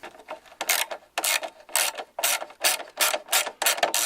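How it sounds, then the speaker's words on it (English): Ratchet wrench tightening two screws on a car dashboard crossbar, giving a close, loud run of rapid clicking bursts in a steady back-and-forth rhythm, with no talk. "I gotta tighten up my two screws down here"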